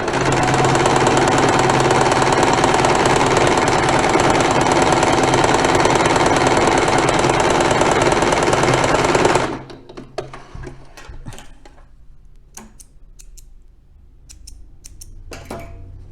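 A domestic sewing machine runs loud and continuous for about nine seconds, stitching a small, tight zigzag, then stops, leaving quiet clicks and small handling knocks.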